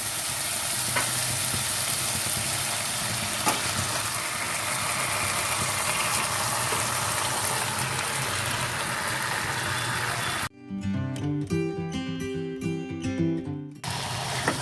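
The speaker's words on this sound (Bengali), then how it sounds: "মাংসটা খুব ভালোভাবে কষাতে হবে।" Mutton being fried and stirred in a spiced masala for a goat curry, a steady close sizzle with scraping stirs, cut off near the end by a brief burst of music.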